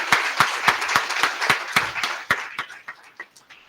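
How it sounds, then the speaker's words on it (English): Audience at a national university pharmaceutical analysis seminar claps for the Vice Chancellor, a steady run of loud, distinct hand claps that thins out and fades toward the end. "And you give a big applause to our Honorable Vice Chancellor for this"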